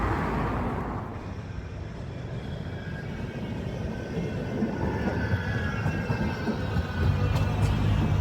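A tram reverses at the Velopark turnback, giving a steady rumbling roll of wheels on rail with a faint whine rising in the second half, heard alone and fairly loud throughout.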